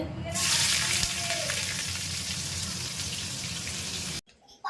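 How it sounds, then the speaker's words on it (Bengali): Loud, steady sizzling of onions dropped into hot oil, a dense crackling hiss that runs continuously before cutting off abruptly near the end. "ওর এখন পেঁয়াজ ছাড়ছে তেলের মধ্যে"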